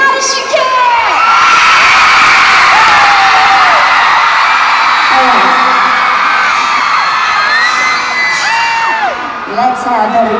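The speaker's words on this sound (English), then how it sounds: "Let's have every guy out there scream as loud as you can!" A large crowd at a concert in Manila screaming and cheering loudly, a dense sustained roar of shrill whoops and yells filling the whole stretch before tapering slightly at the end.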